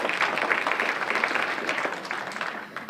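An audience at a community meeting on equity and justice in Massachusetts breaks into steady applause, a dense wash of clapping that holds for nearly three seconds and then begins to fade.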